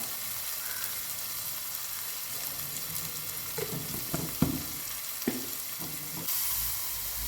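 Bitter gourd curry with turmeric powder being stirred in a pan: a steady frying sizzle with a few scraping spoon strokes midway, close and fairly quiet, no voices.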